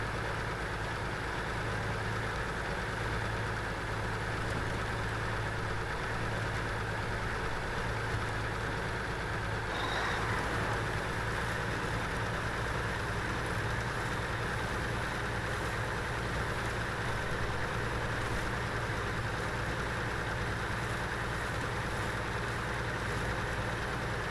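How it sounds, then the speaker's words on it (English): A steady, low Ford F-250 pickup engine in the video game SnowRunner idles at an even hum throughout, unchanging and moderately loud, with no voices. "Engine sounds are actually decent."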